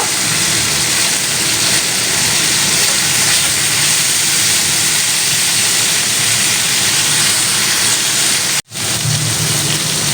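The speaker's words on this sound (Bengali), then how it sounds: "সব মাছগুলো ভাজা হয়ে গেছে বেশ দু তিনটা উল্টে পাল্টে কড়া করে ভেজে নিলাম" Bhola fish fry crisply in hot oil, giving a loud, dense, continuous sizzle that hisses steadily throughout, broken by one brief dropout near the end.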